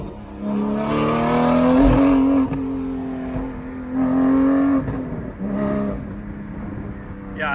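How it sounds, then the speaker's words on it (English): A straight-piped Porsche GT4 fitted with an IB exhaust accelerates onto a highway, its loud engine roaring up through the gears in rising pulls, with talking in the car. "So now we're getting on the highway in the IB straight pipe GT4."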